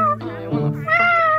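A person imitates a cat with drawn-out, nasal meows, two or three wavering calls up close and loud.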